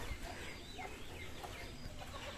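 Chickens cluck and murmur on a farm, a flock heard at moderate distance with scattered soft clucks over a steady outdoor background.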